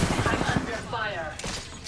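In an Apex shooter game, a burst of rapid gunfire crackles through a dense mix of game sounds, loud and close, with voices talking over it.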